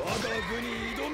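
A horse in the video game Samurai Warriors 4 gives a drawn-out, wavering whinny that sits under someone talking, loud and close.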